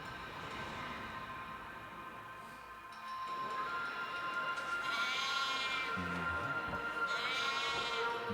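A sheep bleats twice in drawn-out, wavering calls over a steady background rumble.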